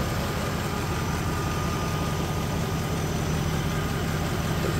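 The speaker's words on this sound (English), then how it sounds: "there she is, ticking over there nicely, with the exception of an exhaust blow" 1989 Mercedes 500 SEL engine idling with an exhaust blow, a steady close rumble with a continuous rough, breathy texture and no talking.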